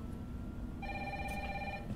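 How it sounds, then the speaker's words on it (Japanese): A telephone rings once in the Resident Evil 3 remake, a steady electronic trill lasting about a second over low background game ambience. "なんか電話かかってきた。"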